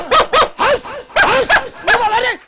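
Several dogs bark close by in quick, yipping bursts with whiny, rising-and-falling tones, loud and overlapping in an excited series.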